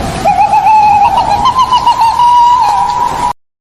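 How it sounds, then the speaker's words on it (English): A playful monkey chatters in a steady run of high, squealing calls with quick wavering notes, loud and close for about three seconds before cutting off to silence. "That's the sound of a monkey having fun."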